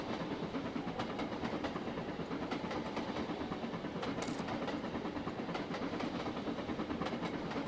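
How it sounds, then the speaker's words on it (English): Steam locomotive, an LMS Coronation Scot in the Trainz: A New Era game, chuffing steadily with a continuous hiss and rhythmic rail clatter, dense and sustained with no voices. "you can see it go chuffing along quite nicely"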